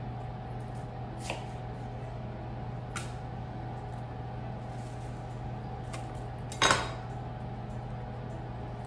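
A freshly sharpened knife cuts onions on a board, giving a few sparse, quiet taps and one louder chop near the end over a steady background hum.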